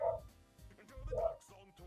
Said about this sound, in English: You can hear my dog barking on my mic.